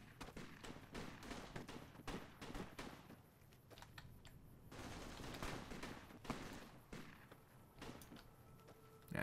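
Rapid gunfire crackles through a firefight in Fallout: New Vegas, with dense bursts and scattered single shots layered over steady ambient game noise.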